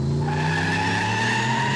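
A Mustang drag car in the 8-cylinder forced induction class launches at a no-prep drag strip. Tires skid and squeal loudly over a roaring engine in one brief, continuous burst.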